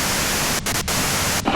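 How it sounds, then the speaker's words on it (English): A loud, even hiss of white-noise static from Disco Elysium fills the entire stretch, broken by a few brief dropouts. "you can do it through the white noise"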